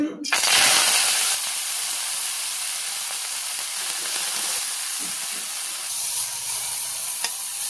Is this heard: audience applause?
no